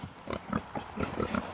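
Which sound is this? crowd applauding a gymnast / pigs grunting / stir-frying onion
pigs grunting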